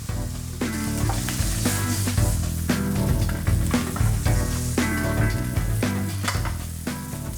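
Beef steak sears in a hot pan for a tagliata: a dense, steady sizzle and crackle runs loud and continuous, with no voices over it.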